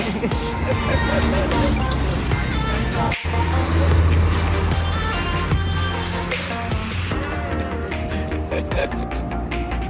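Two-wheeler engine humming steadily on a road trip to Lonavala, with constant wind rush and road noise, a brief thump partway through, and faint voices under the drone.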